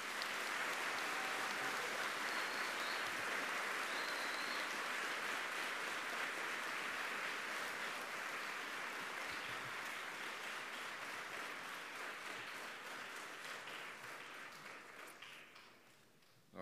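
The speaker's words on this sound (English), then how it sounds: "Give them all a round of applause." Sustained applause from the audience at the Fairhaven Baptist College and Academy 2019 graduation ceremony, a broad, even wash of clapping that carries on for many seconds before tapering off at the end.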